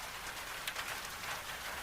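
Rain falls steadily, a soft, even hiss of drops on surfaces with no other sounds, quiet and continuous.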